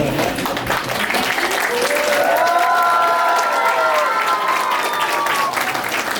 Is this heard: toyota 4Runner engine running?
no